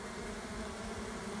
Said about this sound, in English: There's a lot of bees fanning there